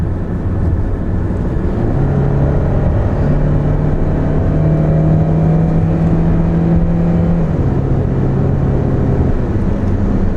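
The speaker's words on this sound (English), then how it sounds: "We're going to go through some uphill acceleration here, getting onto the freeway" Engine of a 2013 Hyundai Elantra accelerating uphill onto a freeway, a steady in-cabin drone with rising and falling engine tones over constant road and wind noise, no voices.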